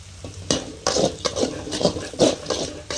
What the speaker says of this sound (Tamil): வெங்காயத்தை மிக்ஸ் பண்ணி தாளிச்சிக்கலாம்.